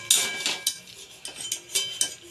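Boiled long beans being moved into a bowl, with a quick run of close metallic clinks and scrapes from a utensil against the pot and bowl, and no voices.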